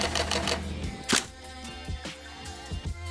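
A camera shutter fires in a rapid sequence during a self-portrait photo session, giving a few sharp mechanical clicks spaced about a second apart over a low background hum, with no voices.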